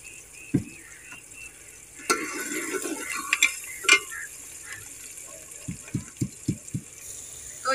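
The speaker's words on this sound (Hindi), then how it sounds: "ये कुछ लहसुन इसको भी पीस लेती हूँ" Garlic cloves ground by hand for a village meal, heard as soft irregular scraping with a few dull knocks, then a run of five quick low thuds near the end, close and fairly quiet with no talking.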